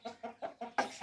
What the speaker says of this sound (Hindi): दोनों ही जो है ना असील चिक्स हैं माशाल्लाह, और बहुत बहुत प्यारे चिक्स हैं ये